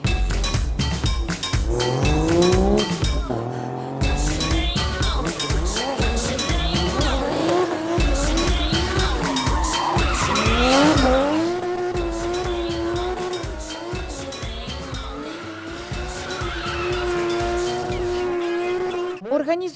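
Cars skid with loud, sustained tire squeals at a loud-car competition in a car park, engines revving hard and repeated screeches rising and falling nearby over a continuous roar.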